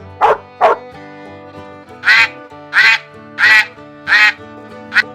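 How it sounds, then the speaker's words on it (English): A duck quacking in a farm animal sound sequence, two quick nasal calls followed by a steady run of five more evenly spaced calls, close and clear with no talking. "It's a duck."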